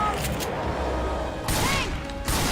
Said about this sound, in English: Throwing a pipe bomb!